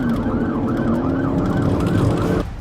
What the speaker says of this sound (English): He didn't even pull over his vehicle when cops turned on the siren.